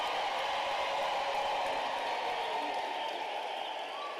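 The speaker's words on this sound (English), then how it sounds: "Can we give them a round of applause and mukholukwane?" Graduation ceremony crowd at Unisa applauding continuously, a faint, distant, steady wash of clapping with a murmur of voices underneath.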